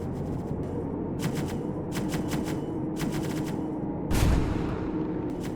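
Gunfire in a tank simulator video game: several bursts of sharp shots over a constant low engine rumble, with one louder blast near the end.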